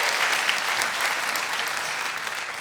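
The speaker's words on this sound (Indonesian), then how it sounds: "Tepuk tangan untuk Kongguan." Audience applause at a stand-up comedy show, a full, steady round of clapping from the crowd that stays loud and even, tapering only slightly at the end.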